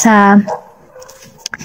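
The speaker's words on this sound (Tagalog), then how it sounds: "Pasensya na sa ingay ng aso" A dog gives a single short, loud bark-like yelp close by, followed by quiet room noise and faint clicks.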